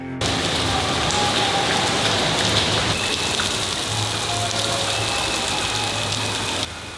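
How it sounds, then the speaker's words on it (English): Heavy rain pours down steadily on a surface during a triathlon, a dense, continuous roar of drops with a low engine idling faintly beneath it, cutting off abruptly near the end. "Like I think I never saw this rain in my life."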